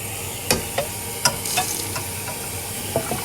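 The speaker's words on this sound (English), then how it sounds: "Give it a quick little scrub with my little wand." Scrubbing a cooking pot that held meatball soup with a cleaning wand, producing scraping and swishing strokes in a few irregular bursts over running background noise.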